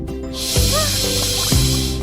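A voice imitates a fish with breathy hissing "ch" sounds, a sustained airy shushing over a humming background.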